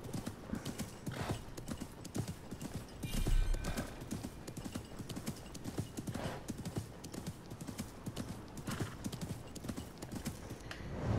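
A horse gallops across desert terrain in the video game Assassin's Creed Mirage, producing a rapid, steady clip-clop of hooves throughout, with occasional snorting and a louder thump in the middle.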